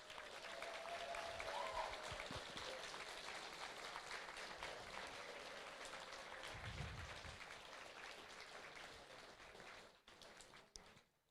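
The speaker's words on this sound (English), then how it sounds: "They as well deserve a massive round of applause," A competition audience gives a big round of applause, a dense sustained clatter of many hands clapping for about ten seconds before it thins and stops.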